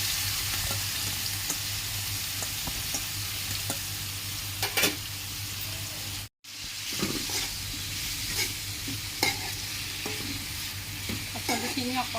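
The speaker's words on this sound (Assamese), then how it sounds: "পাচলিখিনি অকণমান দি ভাজি ল'ম।" Vegetables frying in a pan for a dried-fish dish, a continuous close sizzle with repeated scraping stirs and clinks, one brief cut midway, no talk.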